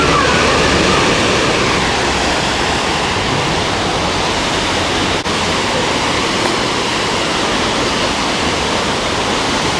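A waterfall roars close by in a downtown park, a loud, steady broadband rush of falling water that stays constant throughout without talking.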